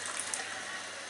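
Water pours steadily into a thickening gravy for Chinese orange chicken, a brief soft liquid splash over a short stretch.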